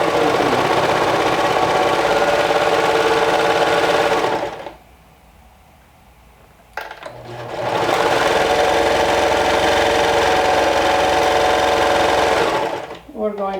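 A serger sewing machine stitches a long knit neckband onto a cardigan, whirring loud and close for about four seconds, pausing briefly, then running again for several more seconds before stopping.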